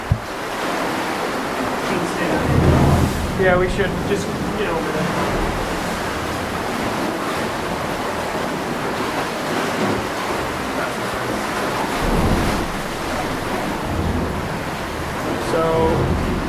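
Water waves wash close by inside a small sea cave, a steady broadband roar with surges, while people talk briefly over it.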